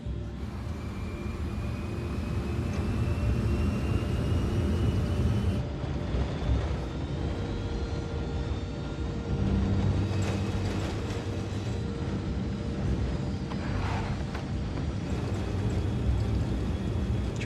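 Cabin view of an airliner lined up on runway 05 for takeoff, steady engine rumble and broadband roar with a rising whine, continuous throughout and fairly even in level.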